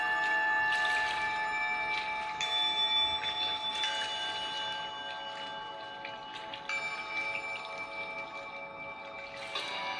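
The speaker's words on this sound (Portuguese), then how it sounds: "entre em contato com o som de um sino de um templo tibetano" A Tibetan temple bell rings with long, shimmering sustained tones, struck a few times so new strikes layer over the slowly fading hum; calm and resonant.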